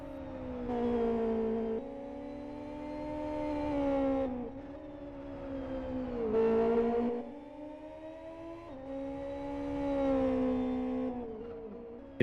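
A race car engine in the Live for Speed driving game runs at full throttle, a strained, whining drone that climbs in pitch, drops briefly at gear changes and climbs again, continuous and moderately loud.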